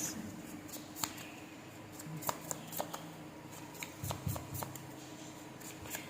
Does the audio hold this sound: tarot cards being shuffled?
yes